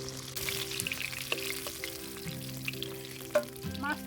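Snakehead fish frying in hot oil, giving a steady close sizzle with small pops and a faint stir near the end.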